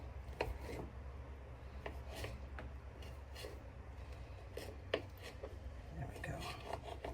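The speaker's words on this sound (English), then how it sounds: "I'm going to cut these up into little chunks" A knife cuts homegrown tomatoes into chunks on a board, soft irregular slicing taps and thuds, quiet and close, with brief speech in between.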